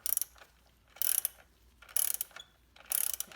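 A ratchet wrench clicks in four short bursts while hand-tightening a bolt on a Porsche 911 964 oil bridge, close and fairly quiet with brief pauses between the bursts.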